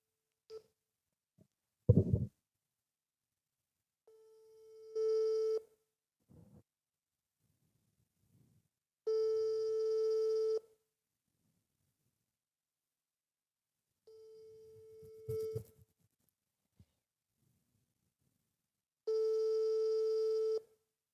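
A WhatsApp call goes unanswered: four long, evenly spaced electronic ringback tones sound over about twenty seconds, separated by quiet gaps holding a few faint knocks and handling noises.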